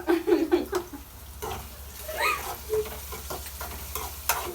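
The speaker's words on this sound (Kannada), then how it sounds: "ಕರೆಕ್ಟಾಗಿ ಎಗ್ ಬುರ್ಜಿನ ಮಾಡ್ತೀನಿ" Egg bhurji fries in a pan and is stirred, with short scraping strokes and a soft sizzle close up, while a person laughs and chatters in the background.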